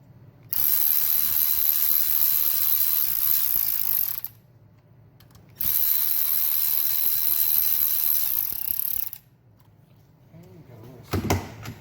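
A ratchet tightens the cylinder head bolts on a MINI Cooper N12/N16 engine, two long runs of rapid, close clicking separated by a pause, with a brief clunk at the end.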